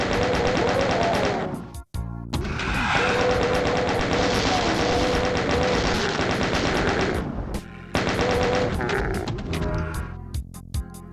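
Loud, sustained rapid gunfire from an enemy in DOOM II: Hell on Earth, a continuous chattering stream with a brief gap near the start and another later on.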